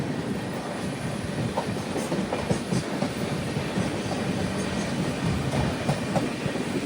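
An express train on a Chennai route rolls along steadily as it slows toward the next station, with a continuous rumble and a faint rhythmic clatter of the wheels running under it. The sound holds at a constant moderate loudness and has no voices.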